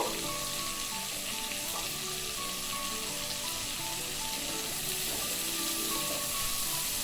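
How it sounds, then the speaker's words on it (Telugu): Vegetables for pulao frying in oil over a medium flame, giving a steady, even sizzle at moderate volume that runs unbroken throughout, with no voices. "ఇవి దోరగా వేగనిద్దాము. మీడియం ఫ్లేమ్ మీదే వేగనివ్వండి."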